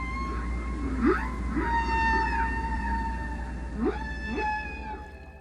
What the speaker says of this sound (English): The song of the blue whale is one of the loudest of any animal on Earth